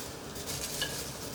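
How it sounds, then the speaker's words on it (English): Water boiling over in a pot while street tacos are cooked makes a continuous, soft hissing sizzle that swells slightly midway, with no voices. "the water sounds like it's boiling over. It is."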